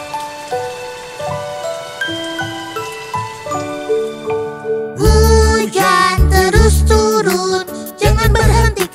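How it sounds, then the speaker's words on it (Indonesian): Rain pours down in a children's nursery rhyme cartoon, a dense patter of drops that swells up loudly partway through, layered over a bright tinkling melody. "hujan terus turun"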